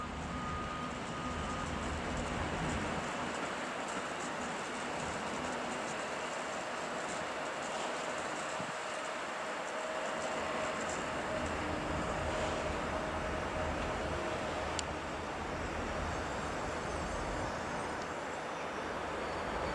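Steady rumble of a commuter train, an S2 fast urban rail service, at Warsaw West station on a winter Saturday. The sound is continuous and fairly loud for the whole stretch, with a faint tonal whine and a brief click near the end.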